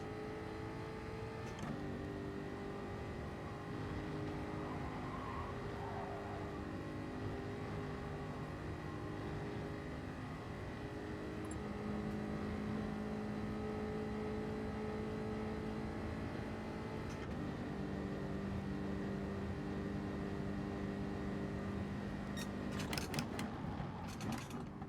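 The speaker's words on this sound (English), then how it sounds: "Here comes the Citroen now." A Citroen race car draws closer in the Gran Turismo video game, its engine a constant droning whine that shifts pitch as it moves through the gears, with no voices over it.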